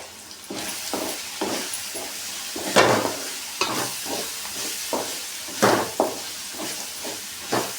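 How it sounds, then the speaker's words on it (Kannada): Curry leaves dropped into hot oil in a pan while making masala chitranna crackle and sizzle in repeated sharp bursts over a steady hiss, close and fairly loud, with no talking. "ಈಗ ನೋಡಿ ಕರಿಬೇವಿನ ಸೊಪ್ಪು ಹಾಕ್ತಾ ಇದ್ದೀನಿ"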